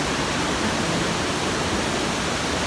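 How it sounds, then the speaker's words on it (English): A stream on the Appalachian Trail rushes with heavy water, a loud, dense, unbroken roar filling the whole stretch with no voices. "that's a whole lot of water moving right there"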